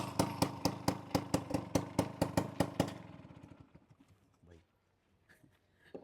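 A Bajaj Chetak scooter with a rusted-through silencer runs with loud, regular exhaust thumps for about three seconds, then the engine cuts out and dies away, leaving near quiet with faint sounds afterward.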